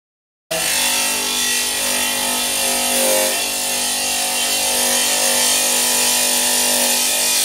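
A direct-drive plunge-cut saw with the blade mounted straight on the motor spindle cuts through tile, a steady loud whine with a grinding hiss that runs unbroken for about seven seconds after a sudden start.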